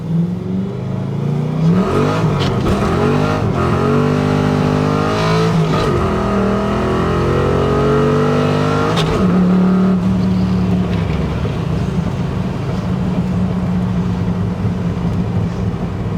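A 1992 Ford Mustang Fox Body coupe with no traction and a worn-out transmission revs hard as its wheels spin, the engine rising and falling loudly up close for several seconds before settling into a steady roar.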